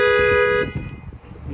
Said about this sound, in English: Fire off the alarm.